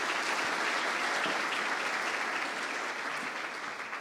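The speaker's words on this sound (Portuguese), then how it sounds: "uma salva de palmas para ele" Audience at a Brazilian internet forum applauds a presenter, producing a full, even wash of many hands clapping that holds steady throughout and eases slightly toward the end, with no talk over it.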